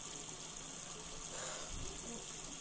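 Tap water runs steadily into a bathroom sink as a face is rinsed during a night skincare routine, a soft continuous wash of noise with a slightly stronger splash near the end.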